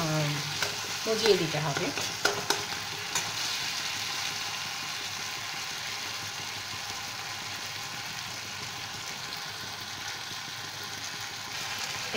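Tomatoes sautéing in oil over medium heat for a quick Bengali tomato fish curry, with steady close sizzling and a few stirring scrapes near the start, continuing evenly throughout.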